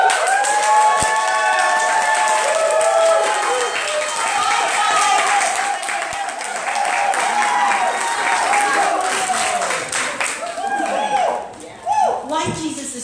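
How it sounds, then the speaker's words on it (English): A church congregation claps and cheers loudly and continuously in worship, a dense wash of applause with voices shouting over it, thinning briefly near the end. "I want you to clap for Jesus wildly."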